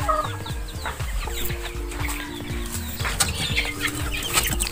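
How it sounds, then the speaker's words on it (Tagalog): Backyard farm chickens cluck steadily and close by, a busy overlapping flock of short, repeated low clucks, with occasional wing flaps. No voices are heard. "i-update ko kayo sa ating mga alagang manok."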